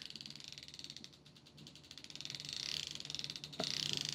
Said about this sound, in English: That's the sound of the Casking Zephyr BFS reel.